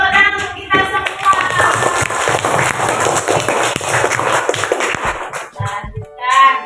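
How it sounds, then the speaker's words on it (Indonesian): A primary-school class claps together during a science lesson on magnets, the brisk clapping mixed with children's voices and fading into scattered claps and chatter near the end. "Tepuk tangan untuk kita semua."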